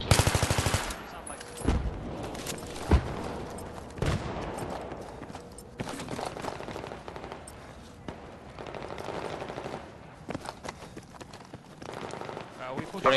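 Rapid machine-gun and rifle fire in the World War II shooter Day of Defeat on the Seine Crossing map, rattling in repeated bursts near and far across the span while players talk over it.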